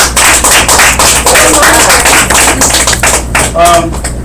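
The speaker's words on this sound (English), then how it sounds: "All right, let's clap for that." People at a community meeting clap together in a close, loud burst of individual hand claps with sharp percussive hits, and speech briefly breaks through near the end.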